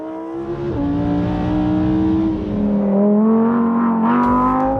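A Lamborghini Huracan Evo, an all-wheel-drive supercar, revs loudly and close, its engine pitch climbing and easing in smooth sweeps over several seconds at an auto show.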